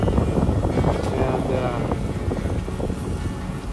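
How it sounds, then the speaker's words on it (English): Wind blowing across a sailboat at sea off the Florida coast, a heavy, steady rumbling gust buffeting close to the microphone, with someone talking over it. "got a little bit of wind tonight coming straight out of the north"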